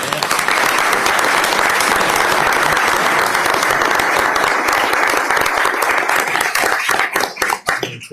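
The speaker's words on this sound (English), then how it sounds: "let's give these folks a round of applause" Sustained audience applause at a school board meeting, dense clapping steady and loud for most of the stretch, then thinning into scattered claps near the end.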